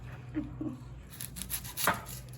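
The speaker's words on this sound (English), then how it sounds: "I cut both ends of my onions off at the same time, and I cut down the middle" A knife chops an onion on a cutting board, a few soft close cuts and taps at an uneven pace in a quiet home kitchen.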